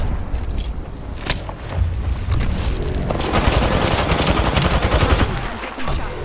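Gunfire rattles in Apex Legends, a dense stream of sharp shots and booms, loud and close, with rapid automatic bursts running throughout.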